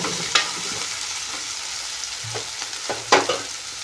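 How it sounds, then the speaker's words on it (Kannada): Curry leaves fry in a pan for a cauliflower and potato dish, giving a soft steady sizzle with a few sharp crackles and stirring scrapes, close and moderately loud, with no speech. "ಕರಿಬೇವು ಹಾಕಿ ಸ್ವಲ್ಪ ಹುರ್ಕೊಳ್ಳಿ."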